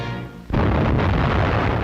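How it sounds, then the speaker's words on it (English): An internal explosion aboard the aircraft carrier USS Franklin after a kamikaze attack, heard in archival wartime footage, a sudden loud boom that breaks in after a quieter rumble and keeps roaring densely to the end. "a ship blasted so violently by internal explosions"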